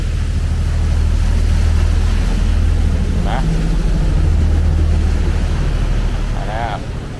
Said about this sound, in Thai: เดี๋ยวเราจะเห็นเรือ ขับผ่านเราไปนะครับ